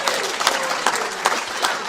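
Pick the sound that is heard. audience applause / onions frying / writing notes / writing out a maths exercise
audience applause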